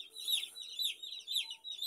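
A chicken clucks in short, repeated bursts at a close, moderate level with no talk.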